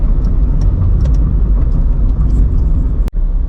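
Car driving near the M81 motorway toll plaza at Nakhon Pathom, a loud, steady engine and road rumble heard from inside the cabin, with a brief dip near the end.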